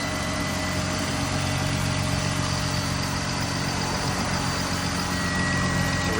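Steady, continuous idle of a BMW E46 engine running after a coil replacement, close and even, with a constant mechanical hum and no speech.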